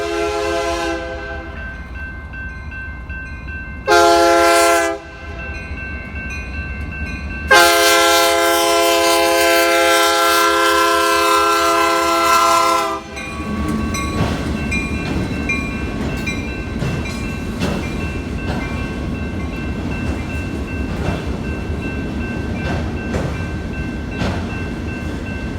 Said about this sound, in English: I ran into UP 4589 with train ASP BVR 25, going across Cavalcade Street with empty auto racks for Brownsville